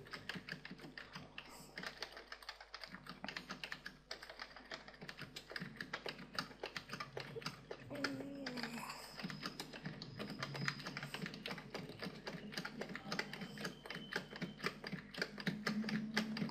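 Steady, fast typing on a computer keyboard while a web page is being written, a continuous close patter of key clicks lasting the whole stretch, with no speech over it.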